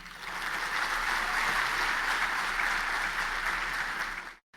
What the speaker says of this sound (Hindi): ताली तो बजा दी आपने